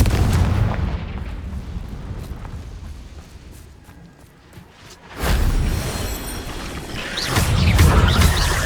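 Confringo explosive spells are cast in the Hogwarts Legacy video game amid combat, with heavy booming blasts and rumbling impacts that swell loudly, dip midway, then surge again.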